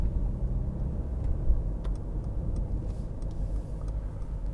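A 2015 Mercedes-Benz C200 with a 1.6 engine cruises along a motorway, heard from inside the cabin as a steady, close, low road and engine rumble with no talk.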